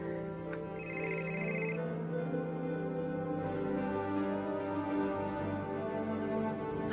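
Telephone ringing indoors at a neighbour's house, a brief electronic ring tone heard fairly clearly before fading into quiet room sound, with no talk.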